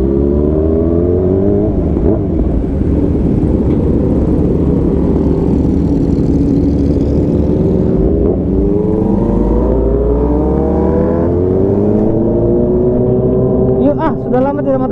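Steady, loud engine drone and rumble of a motorcycle riding on a road, with pitch rising and falling as it accelerates, while a voice speaks over it throughout.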